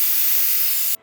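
Steam hissing hard out of a pressure cooker's vent after three whistles, one loud close rushing blast that cuts off abruptly near the end into near silence.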